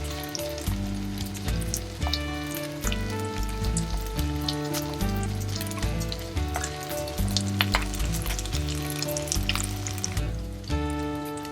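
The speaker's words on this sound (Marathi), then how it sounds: "आपला हा मसाला आणि भाज्या चांगल्या भाजून झालेल्या आहेत" Masala and vegetables fry in a pan for paneer bhuna masala, a continuous sizzle and crackle running under loud background music.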